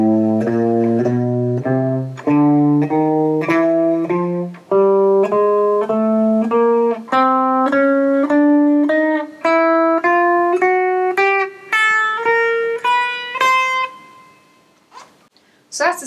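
A guitar plays an alternate picking exercise across all six strings: evenly spaced, clearly picked notes climbing steadily in pitch, played alone at close range and fading at the end.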